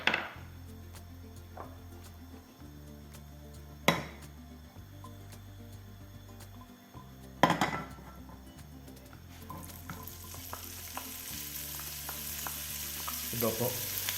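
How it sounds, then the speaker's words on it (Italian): Pancetta sizzles and crackles in a small pan, a steady frying hiss with occasional stirring knocks, growing louder and brighter toward the end. "prendiamo un padellino e soffriggiamo la nostra pancetta"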